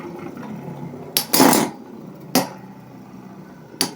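Beyblade spinning tops clashing in a metal tray during a tournament, a few sharp metallic clacks and one longer scraping collision spread over a few seconds against a faint whirring background.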